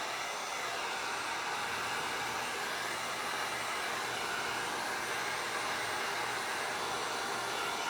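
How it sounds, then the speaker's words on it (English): A heat gun blows hot air over an Iflex wood embellishment on furniture, a steady close whooshing drone with a faint motor whine that holds evenly throughout, no talk. "And then we're going to come back in with the heat gun."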